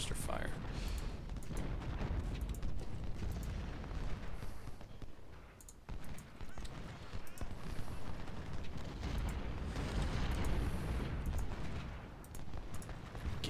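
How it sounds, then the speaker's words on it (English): Cannons fire canister shot in the Civil War strategy game Ultimate General: Civil War, making a steady roar of booming volleys and crackling battle noise that swells and dips throughout. "We want to see some canister fire."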